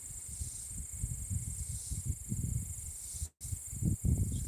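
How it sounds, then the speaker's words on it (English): Cicadas drone in a constant high-pitched buzz around a rural Ozark homestead porch on a summer evening, with soft low thumps and rustling close by underneath. "the cicadas are very loud right now"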